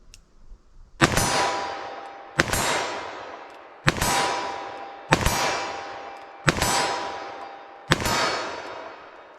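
Six sharp, loud 10mm revolver shots ring out at a steady pace about every second and a half, each followed by a bright metallic clang off a steel target that rings out and decays before the next.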